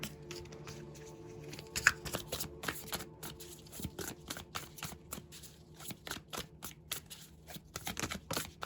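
Tarot cards shuffled by hand in a steady series of crisp riffling and slapping bursts, close and fairly quiet, with no talking.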